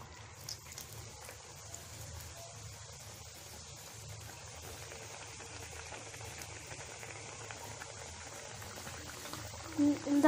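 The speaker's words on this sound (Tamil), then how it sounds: "மிதமான சூடு வந்து இப்போ நம்ம பொரிச்சு எடுத்துக்கலாம்" Layer samosa deep-frying in oil over low to moderate heat, a soft continuous sizzle and faint bubbling, fairly quiet and steady throughout, with a brief louder crackle near the end.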